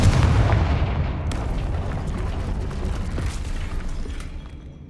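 A Confringo fire spell cast in Hogwarts Legacy bursts with a loud, heavy blast, and a dense rumbling roar follows that slowly fades away.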